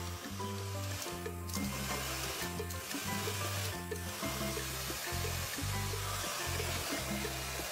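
A mini handheld bladeless fan runs loudly up close, a constant whirring hum with a pulsing, stepped motor tone throughout, with no talking.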